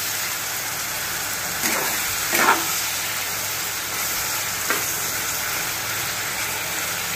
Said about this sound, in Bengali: এবার আমি চিংড়ি মাছটা দিয়ে দিয়েছি, চিংড়ি মাছটা একটু লাল লাল করে ভেজে নিই